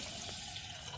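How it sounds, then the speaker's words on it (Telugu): Water pours in a steady, rushing stream onto washed rice in a pot, a brief close splash with no talking. "ఒక గ్లాస్ దానికి మనము 5 గ్లాసుల నీళ్ళు పోసుకుంటాం"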